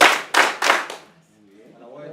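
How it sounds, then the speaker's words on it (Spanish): Classroom students clap together three times in a tight, evenly spaced rhythm, loud and close, before a teacher's voice begins speaking. "Vamos mejorando. 3 aplausos."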